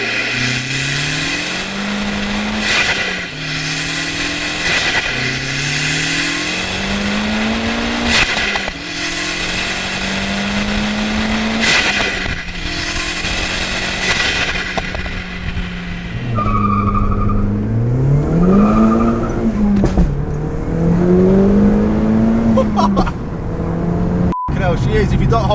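Seat Leon Cupra R 1.8T accelerating hard, engine note rising through the gears with brief tire chirps as the wheels break traction, heard from inside the car with people talking over it.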